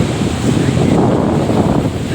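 Loud, continuous roar of water rushing from all six open gates of the Manjara dam, heavy and close, with wind buffeting the microphone throughout.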